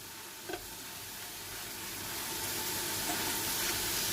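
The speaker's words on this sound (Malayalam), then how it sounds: "അപ്പോൾ നമുക്ക് ഒന്നായി ഇളക്കി കൊടുക്കാം." Fried onions stir into fish biryani masala in a pan, producing a soft continuous sizzle with a single scrape of the spoon near the start and the hiss swelling gently toward the end; no voices.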